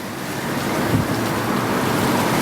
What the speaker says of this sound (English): It's quite windy here in Maui today.